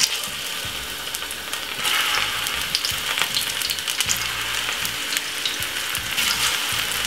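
Plantain slices fry in hot oil with a steady, close sizzle that runs unbroken for the whole stretch, crackling brightly and swelling slightly in loudness partway through, with no voices over it.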